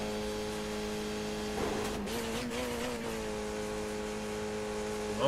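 Race car engine in the Skip Barber racing video game at Belle Isle, droning steadily at high revs, then briefly surging and wavering in pitch before settling back to a sustained loud whine with no talk.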